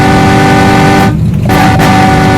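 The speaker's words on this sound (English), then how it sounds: "You can honk your horn." An ork vehicle horn in the video game Eternal Crusade honks loudly and steadily with a buzzing, harmonic tone, broken by a short gap before sounding again.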